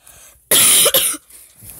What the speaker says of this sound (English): Sorry, guys, that I'm coughing.